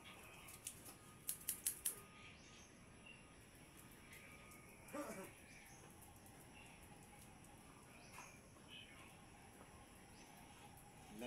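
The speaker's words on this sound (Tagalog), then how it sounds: "Grabe, napakatalim tong gunting na ito." Very sharp scissors tested against skin, with a quick run of faint, crisp snips early on, then a low ambient hiss and a few scattered soft clicks.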